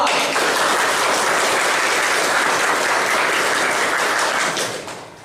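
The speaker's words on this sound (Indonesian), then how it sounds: "kita beri aplaus dulu bagi kita semua" A classroom of students gives a burst of applause, dense hand-clapping sustained for about four and a half seconds before fading out.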